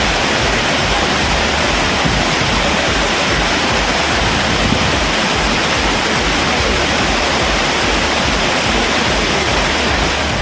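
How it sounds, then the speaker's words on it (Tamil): Roaring flash-flood torrent pouring over the Main Falls and Old Courtallam waterfalls after heavy rain, a dense, steady, loud wash of rushing water throughout with no voices. "திடீரென குற்றாலம் மெயின் அருவி மற்றும் பழைய குற்றாலம் அருவிகளில் காட்டாற்று வெள்ளம்"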